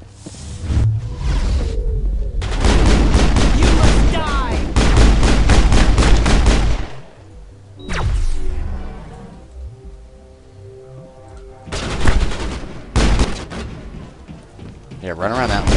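Heavy Mass Effect gunfire rattles in long, loud automatic bursts, with pauses between volleys, plus a later sustained stretch of shooting mixed with game effects.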